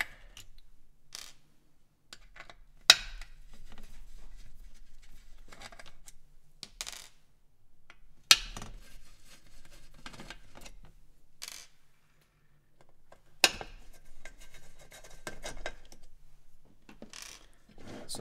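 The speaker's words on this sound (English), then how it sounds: "Remove the rest of the screws from the front panel. This is a 2mm hex driver for these screws." Small front panel screws are being removed with a 2mm hex driver on an electronic sequencer. Sparse metallic clicks and light scraping ring out close by, with a few sharp clinks from dropped screws between quiet gaps.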